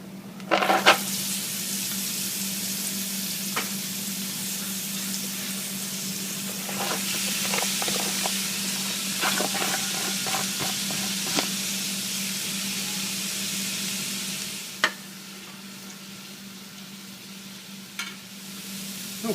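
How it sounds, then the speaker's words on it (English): Vegetables and onions sauté in melted butter for a chicken corn chowder, giving a steady close sizzle with soft crackles and occasional stirring clinks and scrapes, no one talking. "the vegetables have been sauteing"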